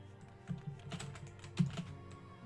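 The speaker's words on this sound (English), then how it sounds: "don't y'all love the really hard clanking of this keyboard?" Hard, clacky keyboard typing up close, a quick uneven run of sharp key strikes with a couple of louder clanks, no voices.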